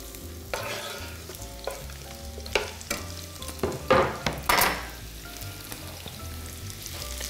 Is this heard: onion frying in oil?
yes